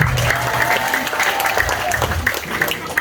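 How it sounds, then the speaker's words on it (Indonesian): A crowd applauds at a Maulid religious lecture, a dense burst of clapping with a few voices mixed in, loud and close, lasting about three seconds. "Mana tepuk tangannya dong?"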